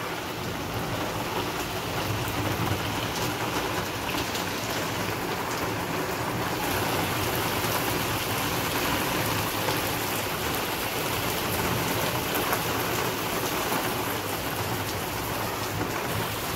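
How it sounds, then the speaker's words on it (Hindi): Heavy rain pours steadily over a village cooking area, soaking dry firewood, a dense, continuous wash of drops on surfaces with a faint distant rumble, loud and unbroken with no talk. "बहुत तेज बारिश हो रही है, सब कुछ भीग गया हमारा"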